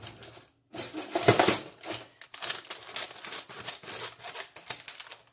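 Cutting a plastic chip bag gives close, loud crinkling and snipping, a rapid run of clicky crackles with brief pauses, and no one speaks.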